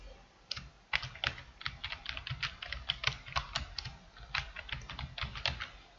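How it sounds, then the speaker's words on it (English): Typing on a computer keyboard: a quick, irregular run of close key clicks lasting several seconds, heard alone without talking. "so I could type that in."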